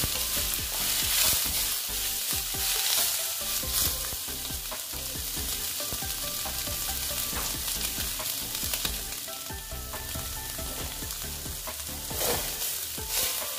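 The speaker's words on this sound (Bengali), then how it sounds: "আবার এটা ভেজে নিচ্ছি।" Soybeans sizzle and crackle steadily in hot oil, with a bright continuous hiss and occasional stirring scrapes. It is close and fairly loud, with no voices.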